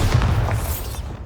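A Bombarda spell explodes in the video game Hogwarts Legacy: one short, loud, booming burst with a rumbling low end that fades within about a second.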